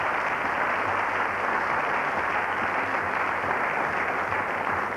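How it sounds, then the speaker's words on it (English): A studio audience gives steady, dense applause that holds at an even level for the full five seconds, with no speech over it. "Let's have a round of applause for that one."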